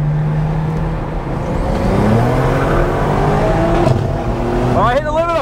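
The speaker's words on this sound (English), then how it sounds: "Oh, I hit the limiter!" A tuned 700 hp hybrid-turbo N54 BMW 355i roll races a tuned F90 M5. The engine drones loud and close as revs climb steadily, then bounces rapidly against the rev limiter at the end.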